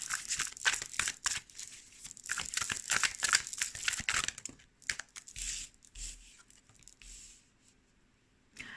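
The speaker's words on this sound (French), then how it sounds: "Je vais tirer les autres cartes avant d'en dire plus." Tarot cards are shuffled and drawn in a quick run of papery crinkles and rustling slaps, close to the listener. The handling fades to a few soft taps and then quiet near the end, with no voice.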